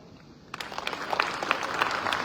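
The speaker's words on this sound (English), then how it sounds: "Once again, ladies and gentlemen, a round of applause for the First Lady." An audience at a First Lady's event in Sierra Leone breaks into steady, dense applause that starts abruptly after a quiet moment and continues strongly to the end.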